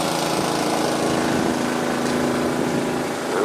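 An off-road motorbike engine buzzes steadily nearby at an off-road spot, a continuous droning whine with no pauses.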